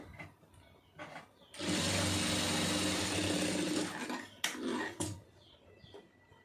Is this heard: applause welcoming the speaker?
no